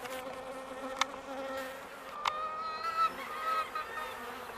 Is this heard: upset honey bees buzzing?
yes